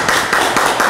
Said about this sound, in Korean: 여기까지 이렇게 발제해 주신 교수님께 다시 한번 큰 박수 부탁드립니다